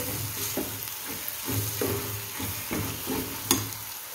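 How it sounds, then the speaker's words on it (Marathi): Onion and tomato sizzle steadily in a hot kadhai while a spatula scrapes and stirs in a regular rhythm, with no talking. "आणि आता हे छान परतून घेणार आहे"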